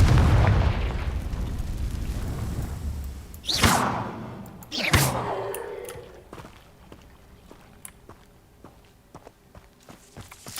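In the Hogwarts Legacy video game, a Confringo blasting spell sets off two loud explosive booms in quick succession. Lighter footsteps and small clatters follow at a lower level.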